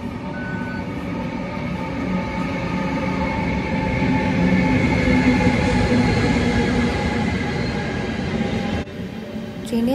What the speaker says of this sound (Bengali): আমাদের ট্রেন এসে গেছে, ট্রেন ঢুকছে।